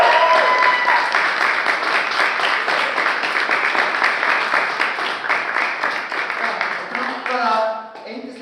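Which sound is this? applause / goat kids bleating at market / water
applause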